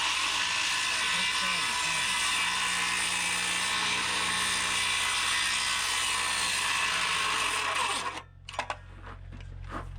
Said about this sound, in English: Guess we gotta use the circ saw.